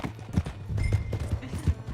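Horse hooves gallop in Red Dead Redemption 2, a fast, rhythmic run of thuds that stays steady and close across the clip, with only the hoofbeats heard.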